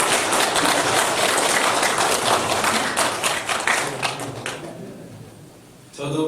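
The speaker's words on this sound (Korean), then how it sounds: "다 같이 환영의 박수를 올려드리겠습니다" A church congregation at a Sunday morning service breaks into loud, dense welcoming applause that holds steady for several seconds, then fades away, with a voice briefly returning at the end.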